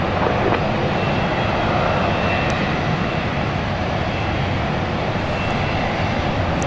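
A Southwest Boeing 737 Max 8 taxiing onto the runway at Dallas Love Field, a loud continuous jet engine roar that holds steady and close without a break.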